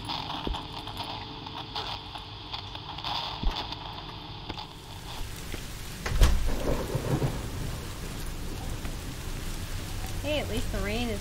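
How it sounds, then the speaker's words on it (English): Heavy rain hisses steadily in the horror game Song of Horror. A sharp thunderclap cracks about midway and rolls off into a long rumble under the downpour. "At least the rain is so loud that I can't hear the radio if it's on."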